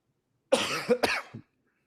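A single short, sharp cough followed by a brief throat-clearing rasp, close and alone in quiet.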